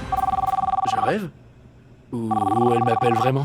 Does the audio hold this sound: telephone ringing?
yes